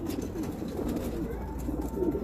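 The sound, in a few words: pigeons cooing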